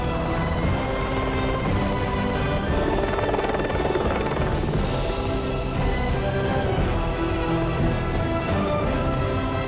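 Rescue helicopter departing from a glacier, its rotor thudding loud and steady close by for the whole stretch, a dense, continuous chop and engine roar with no voices.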